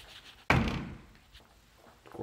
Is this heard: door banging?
yes